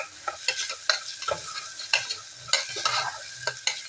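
Ingredients for pavta rice roast in a pan with a spoon scraping and stirring in quick irregular strokes over a soft, close sizzle.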